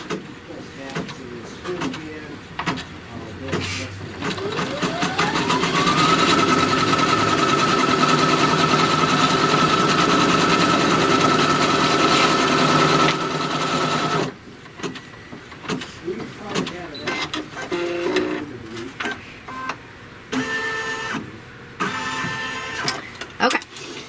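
A sewing machine stitching a tack-down cover stitch spins up with a rising whine, then runs at a steady, loud hum for several seconds before stopping. Afterwards come shorter bursts of handling and fabric noise, with a person talking nearby.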